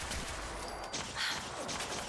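Gunfire in the video game Fallout 4, rapid dense bursts of shots rattling continuously and loudly throughout, with no talk.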